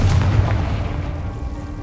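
A Confringo fire spell bursting in the Hogwarts Legacy game, with a loud low boom at the start that rolls into a fading rumble.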